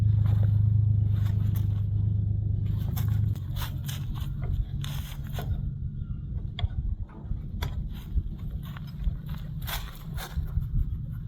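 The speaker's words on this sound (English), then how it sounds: "I like to double check with a 4-way lug wrench" Trailer wheel lug nuts being tightened with a 4-way lug wrench, giving a steady low mechanical drone and then a run of close metallic scrapes and clicks as the nuts are turned.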